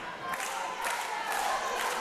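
A wrestling arena crowd in a match between Dalton Chase and KD cheers steadily, with a broad roar of many voices swelling and falling under a commentator's talk.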